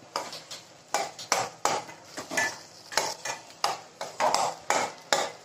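A spoon stirs ground mustard and fenugreek into gooseberry pickle in a metal pan, making steady rhythmic scrapes and clinks about twice a second. The strokes are close and clear, with no talking.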